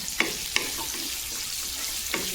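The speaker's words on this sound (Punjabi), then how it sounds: "ਆਪਣੇ ਪਿਆਜ਼ ਪਾਤੇ ਹੁਣ ਇਹਨਾਂ ਨਾ ਜ਼ਿਆਦਾ ਨਹੀਂ ਭੁੰਨਣਾ ਹਲਕੇ ਜਿਹੇ ਹੀ ਭੁੰਨਣੇ ਆ" Onions fry lightly in a pan for an Indian-style soy paneer and capsicum dish, making a soft, steady sizzle with a few quick clinks and scrapes of stirring, no talk.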